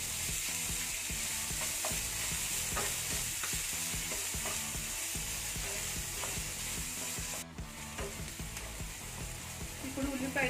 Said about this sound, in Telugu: ఇప్పుడు ఉల్లిపాయలు కొంచెం వేగాయి.